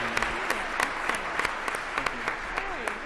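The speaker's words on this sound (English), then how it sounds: "How about a round of applause for our first set?" Applause at a leadership summit for a set of honorees, with sharp claps close by over broader crowd clapping and voices talking and calling out beneath it.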